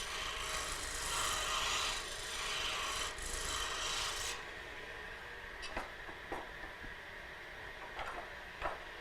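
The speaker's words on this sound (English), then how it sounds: "then you switch to the scraper and you get down here and just kind of take just a little bit off" A scraper on a wood lathe shaves a little wood off a spinning piece. The close, steady rasping scrape runs for several seconds, then turns quieter with a few sharp ticks and catches.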